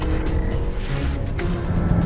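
A Renault Mégane RS police car drives at speed, its engine a steady loud drone with road and tyre noise throughout, continuous and close.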